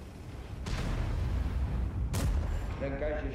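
A Ho-Ri 3 tank destroyer fires its main gun in a video game, two heavy booming shots about a second and a half apart over a steady low engine rumble, with someone talking quietly alongside.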